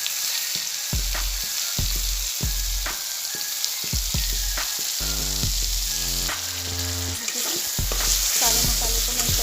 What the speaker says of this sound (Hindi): सारे मसाले को मैं इस तरह से फ्राई कर ले रही हूँ।